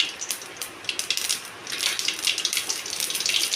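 Mustard seeds pop and splutter in hot oil in a pan for chutney tempering. The dense, rapid, crackling pops are close and build steadily louder over a faint hiss.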